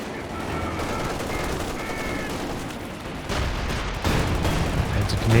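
Machine gun fire rattles through a Company of Heroes 2 2v2 battle, a steady, dense din of gunfire and rumbling combat that keeps going throughout and swells louder toward the end.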